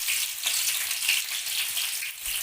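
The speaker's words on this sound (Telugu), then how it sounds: "ఇప్పుడు ఈ ఆనియన్స్ కొంచెం ట్రాన్స్పరెంట్ వచ్చే వరకు ఫ్రై అవ్వాలి" Onions frying in hot oil in a pan for homemade noodles, a steady close sizzle with soft crackle running throughout, no one speaking.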